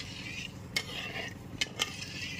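A spoon stirs sugar syrup in a pan, giving faint scraping and a few sharp metallic clinks against the pan over a soft background.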